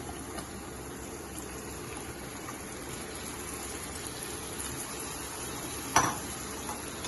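Chopped apples tipped into a sizzling Indian-style apple curry and stirred, giving a steady low frying hiss throughout with one brief louder clatter near the end.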